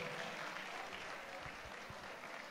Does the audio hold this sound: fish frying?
no